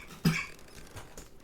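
A single short, muffled cough up close, followed by quiet room noise.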